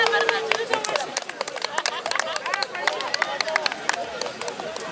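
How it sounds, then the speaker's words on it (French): Applause at Marina's 18th birthday party: a crowd claps steadily for about five seconds, with voices and cheering mixed into the clapping. "On applaudit quand même pour les 18 ans de Marina."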